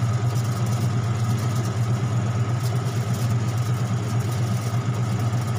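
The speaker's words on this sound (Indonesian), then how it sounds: "Baru kita putar timer spin, maka terjadi proses pengeringan." An automatic washing machine converted to manual control runs its spin cycle, giving a steady, unbroken motor hum with a low drone that holds level from start to finish.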